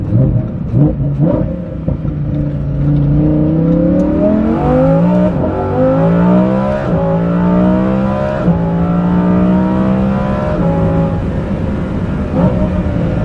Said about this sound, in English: the exhaust sound of this Kline Innovation system